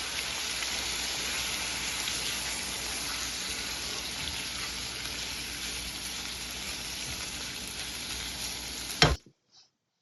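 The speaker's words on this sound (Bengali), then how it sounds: "সেই চিকেনটাই সরাসরি বাটারে দিয়ে ভেজে নিব।" Chicken pieces, washed and unseasoned, frying in butter in a pan give a steady, dense sizzle with crackling spatter that runs unbroken for about nine seconds and then cuts off abruptly.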